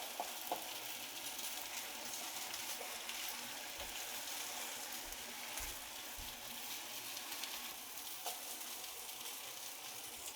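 Shakshuka sauce sizzles in a pan under a steady hiss while a utensil stirs it, with soft scraping and dull knocks scattered through the frying.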